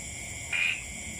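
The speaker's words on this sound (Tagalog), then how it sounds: "Grabe ang dami palaka o." A steady chorus of frogs and insects drones on, with one louder croaking call standing out briefly near the middle.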